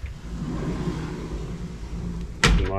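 One of the triple sliding glass doors on a 2014 Cruisers Yachts 48 Cantius slides along its track, a low rumbling roll that ends in a sharp knock.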